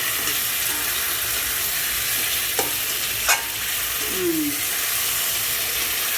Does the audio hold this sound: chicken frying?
yes